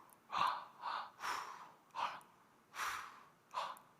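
A man demonstrates rhythmic running breaths, a series of six sharp, evenly spaced huffing exhalations and gasps, close and clear with no talk between them.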